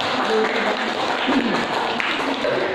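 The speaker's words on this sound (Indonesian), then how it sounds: "beri tepuk tangan untuk kelompok" Classroom audience applauding a student group after a physics presentation, a steady dense wash of clapping that stays even throughout, with faint voices underneath.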